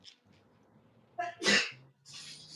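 A single sharp sneeze bursts out after a quick inhale, close and loud, followed by a faint breathy sound.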